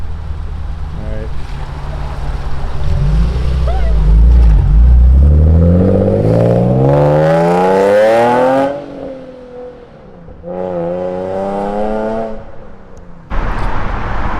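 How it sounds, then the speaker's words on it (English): Nissan 350Z with headers and test pipes climbs through a long loud rev, then drops back, followed by a second shorter rev and a sharp blip, rasping and close. "let's get a quick before and after shot of the exhaust note"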